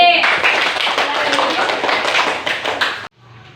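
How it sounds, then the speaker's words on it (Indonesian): A primary school class claps for group B in a lesson, a close burst of many hands clapping together that cuts off abruptly, followed by quiet room tone with a faint voice. "ayo tepuk tangan untuk kelompok B"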